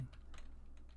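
Computer keyboard and mouse clicks while working in 3D modelling software, a short run of soft, close taps and a click in quick succession, no voice.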